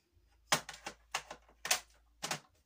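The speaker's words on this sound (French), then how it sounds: "je reprends mon massicot" A paper trimmer slicing through paper in four or five distinct, sharp strokes spaced about half a second apart, close and fairly loud against a quiet background, with no speech.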